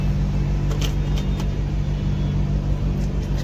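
A Skoda Rapid with a failing automatic transmission and torque converter fault runs with a loud, steady engine roar while being revved, a dense low rumble with slight pulses that never builds into acceleration.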